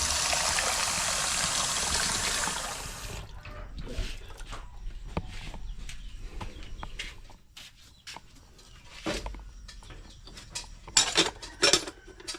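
Water pours from a tap into a cooking pot used for boiling soursop, a loud rushing splash for about three seconds, then stops, followed by scattered clanks and knocks of the pot and utensils.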